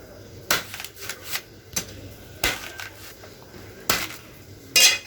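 A cleaver chops through food in sharp, irregular strikes, each a crisp close thwack with quiet gaps between.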